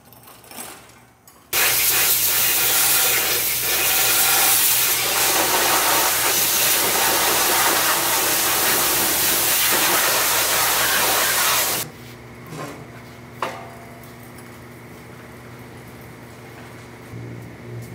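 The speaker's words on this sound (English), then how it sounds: "then we can pressure wash it" A pressure washer spraying a disassembled tractor engine block during a 4230 M&W turbo build, a loud, steady, close hissing blast lasting about ten seconds, then cutting off to a lower hum with a few faint knocks.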